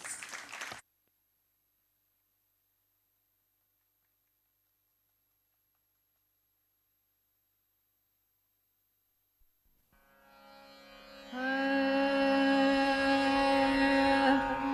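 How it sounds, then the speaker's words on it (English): An audience at a dance recital breaks into applause, a dense, steady patter of clapping that swells in near the end after a long stretch of silence. "Let's welcome her with an applause."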